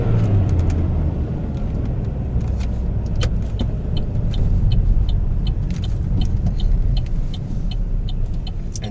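Engine of a Chevrolet Aveo taxi with a manual gearbox hums steadily while driving, a continuous low rumble with road noise and occasional light rattles from inside the cabin, no talk.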